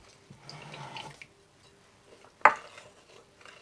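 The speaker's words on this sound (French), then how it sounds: "on va ajouter tranquillement notre lait" Milk is poured slowly into a strawberry and rhubarb clafoutis batter, a soft liquid trickle for about a second, then quiet, then a single sharp clink of a utensil against the bowl.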